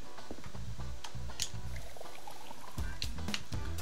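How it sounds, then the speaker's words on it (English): Water pouring into a cooking pot in the restaurant cooking game Chef Life, a short continuous splashing fill heard up close with a slight rhythmic gurgle and no talking. "Fill up water."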